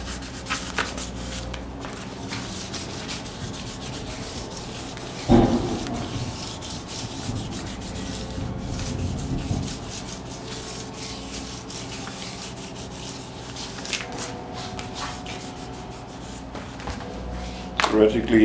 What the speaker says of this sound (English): as usual I'll start with some light sanding